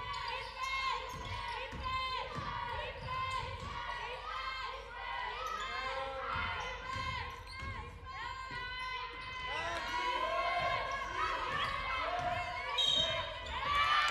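A basketball bounces repeatedly on an indoor court during a women's league game, the rhythmic thuds mixing with squeaking shoes and crowd noise while a commentator talks over the action.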